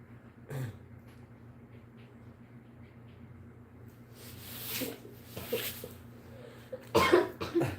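Several sharp coughs from a person laughing break through a quiet hum, one early and a cluster near the end, close by.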